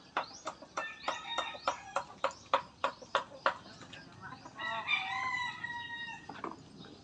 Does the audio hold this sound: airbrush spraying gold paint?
no